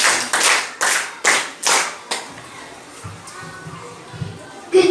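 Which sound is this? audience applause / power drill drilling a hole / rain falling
audience applause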